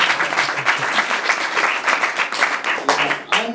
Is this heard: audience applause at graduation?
yes